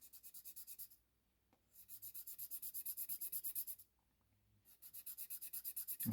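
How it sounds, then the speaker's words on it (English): A thin wedge is hand sanded with sandpaper in quick, rhythmic back-and-forth rasping strokes, delivered in three close, steady bursts with brief pauses between them. "I'm putting pressure on one side, trying not to sand the other side, to make myself this little wedge"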